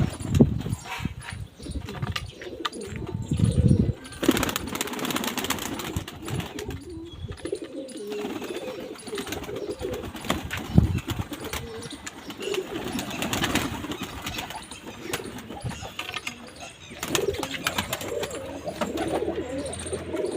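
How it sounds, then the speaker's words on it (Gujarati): Saharanpuri pigeons in a home loft after feeding, cooing softly and repeatedly with bursts of wing flapping and shuffling close by, and little talk. "ચાલો કબૂતરે ચણી લીધું એટલે હવે પૂરી દઈએ કબૂતરને"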